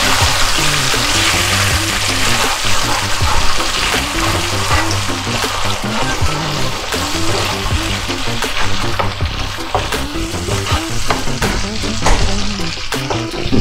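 Sticky pork belly sizzles in a pan as chili garlic sauce is stirred in, a loud constant frying hiss close up with scraping stirs and faint clinks, no talking.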